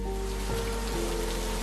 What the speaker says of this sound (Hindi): बहुत तेज बारिश हो रही है सर।